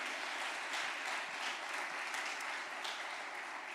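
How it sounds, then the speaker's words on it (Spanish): A church congregation applauds during a sermon, producing a fairly faint, distant and uniform wash of clapping from many people that holds steady for almost four seconds. "Dale un aplauso fuerte a ese Dios que tenemos,"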